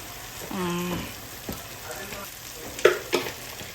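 Masala being stirred and fried in a pan for a Kerala roasted-coconut chickpea curry, a soft sizzle with a few scraping stirs and two sharper clinks near the end, close and moderate in level.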